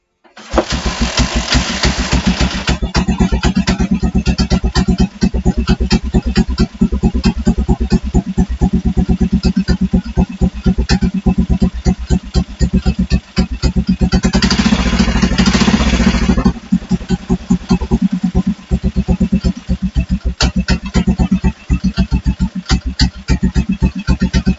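A petrol engine on the G2 project runs continuously close by, a loud, rhythmic chugging with rapid regular firing pulses and a brief rise in revs midway.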